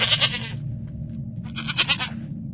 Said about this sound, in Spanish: se escuchara el balar de una cabra, y al parecer ese sonido provenía del interior de toda la siembra